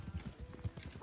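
Horse hooves clip-clopping in a video game, a fast, steady run of quiet hoof beats over about a second.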